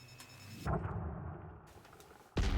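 Asteroid mining explosions in the video game Elite Dangerous: two heavy booming blasts, each with a sharp onset, the first rumbling off over about a second before the second hits loud and close.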